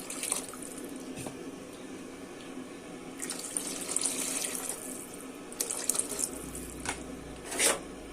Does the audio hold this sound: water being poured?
yes